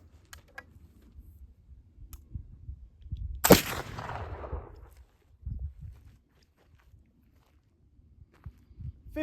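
A single black powder gun shot using Wonder Bread as wadding, one sharp loud crack with a trailing ring-out, set against near silence with faint handling noises and footsteps before and after.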